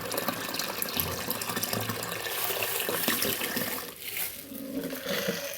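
Water running steadily from a tap while taro roots are washed, a continuous close splashing gush with shifting texture as the roots move under the stream.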